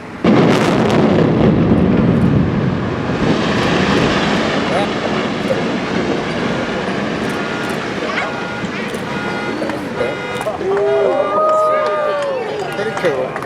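The Jim Norick Arena comes down in a building implosion demolition: a loud rumbling roar of collapse opens strongly and slowly fades, and crowd noise and voices follow near the end.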